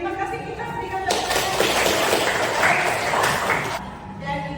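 Students in a classroom give a short burst of applause that starts and stops abruptly in the middle, with a teacher's voice speaking before and after it.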